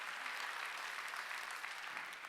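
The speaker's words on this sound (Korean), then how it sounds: "박수 치려면 세게 치라니까." A congregation claps steadily during a church worship service, a dense, even patter of applause heard at a moderate distance with no talking over it.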